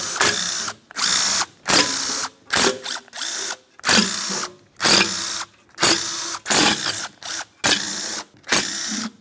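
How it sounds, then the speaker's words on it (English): A ratchet spinning out 11 mm intake bolts on a 1994-2002 Dodge Ram 2500, about a dozen sharp, loud bursts of rapid clicking separated by brief pauses, with no talk. "remove all 15 of your 11 millimeter bolts."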